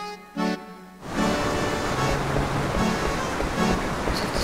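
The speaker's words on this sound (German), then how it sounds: "Was ist das Wasser, das man hier so toll rauschen hört?" Rushing water in the video game Final Fantasy 9 swells in as a steady, loud wash with a soft game tone over it, continuing without a break.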